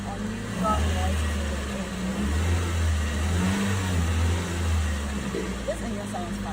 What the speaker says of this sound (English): And then you need to floor the rev engine.